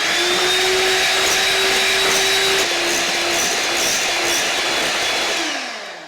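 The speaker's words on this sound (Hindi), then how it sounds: "हमने यहाँ पे इतना बीट करना है अंडे की सफेदी को कि ये ना क्रीम की तरह हो जाए" An electric beater whips room-temperature egg whites toward a creamy foam for a pressure-cooker cake, giving a loud, steady motorized whir with a shifting pitch, alone with no talk, fading at the end.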